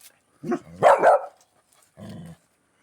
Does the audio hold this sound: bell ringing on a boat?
no